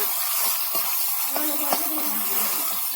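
Bottle gourd leaf paste sautéed in a hot pan gives a steady, soft sizzling hiss with faint stirring scrapes, while a voice talks over it.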